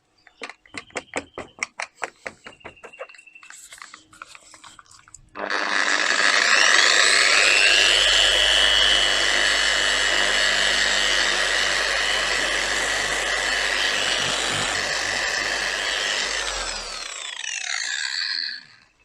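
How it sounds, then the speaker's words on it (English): A power polisher buffs sanded headlights on a Mercedes W203, a loud steady whine that runs on without a break after a few rapid clicking taps at the start, then winds down. "last step is to polish them out, hopefully make them perfectly clear again"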